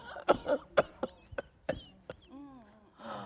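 A voice imitates a child's whooping cough: a burst of sharp, rapid coughs in a rhythmic series, then a long, strained whooping intake of breath, close and fairly loud.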